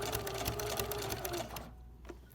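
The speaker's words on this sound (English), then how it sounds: "So I'm almost finished attaching the bias tape to this side, so I'm just gonna keep sewing" A sewing machine stitches bias tape onto a quilted leaf-shaped potholder, running with a steady, close mechanical whir for about one and a half seconds before stopping with a faint click.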